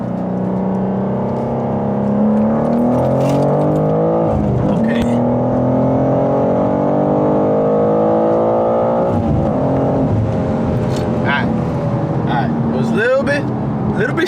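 A BMW M2 with the S58 engine pulls hard in second gear from 40 mph, its loud, close engine note climbing steadily, then dropping briefly before surging again, with the driver talking over it.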